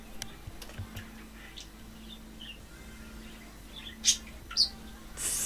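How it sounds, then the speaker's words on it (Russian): Faint chirps from a pet parrot indoors, a few short tweets scattered over low hum, with two brief louder calls near the end. "Этот попугай меня когда-нибудь в жизни доконает."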